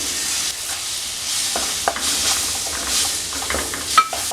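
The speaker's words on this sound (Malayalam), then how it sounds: "ഒരു ചെറിയ തക്കാളി ഇതേപോലെ കട്ട് ചെയ്തെടുത്തിട്ടുണ്ട് അത് ചേർത്ത് ഒന്ന് വഴറ്റിയെടുക്കാം" Chopped tomato sautéing and being stirred into masala for a Kerala-style prawn roast, a steady close sizzle with a few soft scraping strokes of the spoon against the pan and a light clink near the end.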